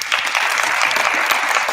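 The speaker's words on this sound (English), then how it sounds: "Let's give her a round of applause" An audience at a Virginia Beach Human Rights Commission event breaks into brisk, steady applause, a dense burst of close clapping that fills the short stretch.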